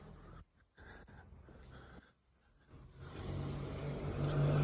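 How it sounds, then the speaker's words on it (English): Trucks and general activity outside a building in Thailand form a distant, low traffic rumble that thickens and grows louder toward the end, with a steady engine drone rising over a noisy outdoor background. "But you hear the trucks and everybody moving."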